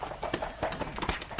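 Horses' hooves clip-clop in a quick, irregular patter as the animals run off, a steady stream of close, moderately loud knocks with no talk over them.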